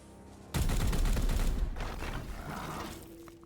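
Sustained burst of gunfire from the turn-based video game Warhammer 40,000: Chaos Gate - Daemonhunters, a loud dense volley erupting after a quiet start and rattling on for about three seconds before thinning out.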